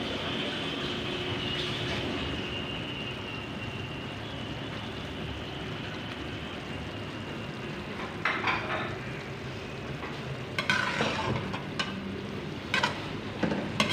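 Potatoes and carrots added to keema for a mix vegetable macaroni sizzle steadily in a pan, a soft continuous hiss with a few clinks of a utensil near the end.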